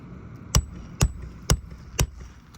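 Four sharp hammer blows on asphalt roof shingles, shedding granules, land at an even, unhurried pace, close by and distinct, with quiet pauses between each strike.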